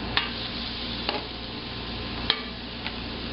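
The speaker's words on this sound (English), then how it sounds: "I'm actually going to cook more than one serving of shrimp at a time" Shrimp cooking in a pan with a spice mix, a constant even sizzle with a few faint ticks and light utensil taps scattered through it.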